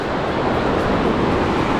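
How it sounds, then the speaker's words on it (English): Rough sea waves at a beach in Rio de Janeiro, a loud, continuous broadband wash of surf and wind, steady and close with no distinct breaks, and no voices present. "the sea is really rough today"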